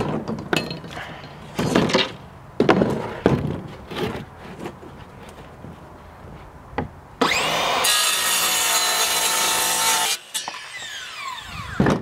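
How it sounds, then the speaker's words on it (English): A saw rips along the length of a scrap wooden board. It starts with a series of short, close rasping strokes, then cuts steadily for a few seconds, then stops briefly and resumes. "make a rip cut down this side to give us our 13 1/2 inch side"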